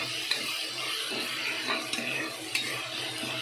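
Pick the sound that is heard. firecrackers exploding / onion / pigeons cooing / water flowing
onion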